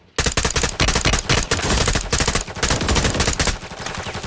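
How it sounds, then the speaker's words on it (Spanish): Gunfire in a video game: dense, loud rapid-fire shots in sustained automatic bursts that crack and rattle continuously for several seconds, with no talk. "Andan disparando, güey."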